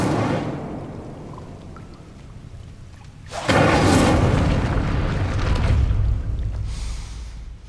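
Casting the Incendio fire spell in Hogwarts Legacy gives a deep booming whoosh of flame. A loud rumbling roar swells partway through over steady background ambience, with no talking.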